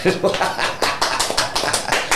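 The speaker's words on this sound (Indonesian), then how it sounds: "kita berikan tepuk tangan kepada narasumber yang luar biasa" Applause for a guest speaker at the end of a podcast session, a burst of rhythmic hand clapping from a small group, close and fairly loud, with a few brief taps at the start.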